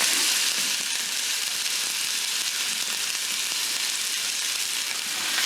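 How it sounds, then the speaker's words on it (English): Beef burger patties sear in a hot pan with a loud, steady, unbroken sizzle that holds at the same level from start to finish, with no voices. "Going to let those sear for at least a minute before I flip them."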